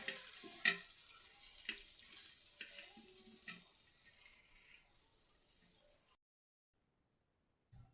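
Khichuri with papaya, vegetables and lentils cooking in a pan, giving a steady hiss of sizzling and a few stirring taps, fairly quiet and close, ending abruptly in silence.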